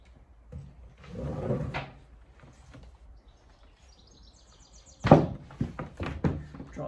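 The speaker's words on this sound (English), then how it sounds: "now we can attempt to get the door in the hole, see if it fits." A gloss black plywood door is fitted into a vintage coffee van, giving a quiet scrape and shuffle followed by a sharp wooden knock and a few lighter thuds as it seats in the opening.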